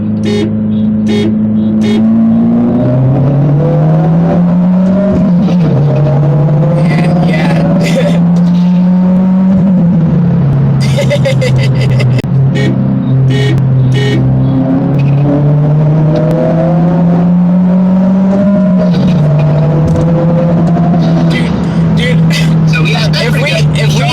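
A 2022 Subaru WRX engine revs hard and climbs through several gears, pitch rising then dropping at each shift, loud and close, with voices talking over it.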